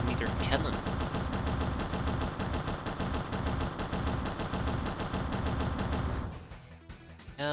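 Gunfire from the X-piratez video game while shooting down a craft, a loud, dense, continuous stream of rapid automatic shots lasting about six seconds before tapering off into scattered softer effects.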